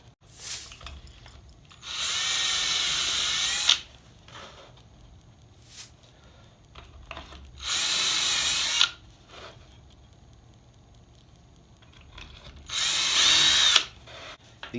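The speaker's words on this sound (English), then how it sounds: "Last thing I'm going to do is drill holes into the preset" A power drill whirs through a wooden jig in three separate bursts, each a couple of seconds long, with quiet pauses and small handling clatter between them.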